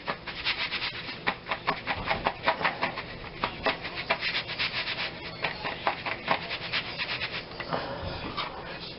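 Floured pieces of meat are shaken and tossed in a large colander, making rhythmic bursts of soft rustling and scraping that repeat quickly and fairly close.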